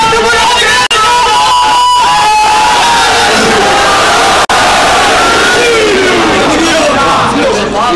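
A large Muharram majlis gathering loudly chanting religious slogans in unison, voices roaring together with shouted bursts, close and dense, mixed with a speaker's amplified voice.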